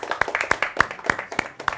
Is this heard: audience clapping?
yes